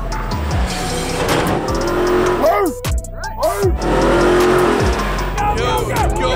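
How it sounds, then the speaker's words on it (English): Off-road trucks drag racing on dirt roar loudly with repeated engine revs and rising pulls, while a crowd shouts and talks over the engines. "We drag racing in the dirt."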